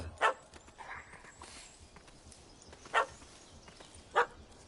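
A puppy barks in three short, sharp bursts spaced well apart, near and fairly loud over a quiet outdoor background with faint footsteps.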